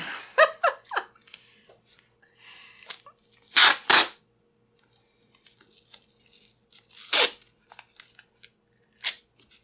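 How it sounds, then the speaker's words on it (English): Tape being pulled and torn off to secure tubing on a mead fermenter, with a few short ripping bursts near the start and two louder tears in the middle, plus a brief tear later in a quiet room. "I'm going to put a piece of tape over the tubing so it doesn't fall out"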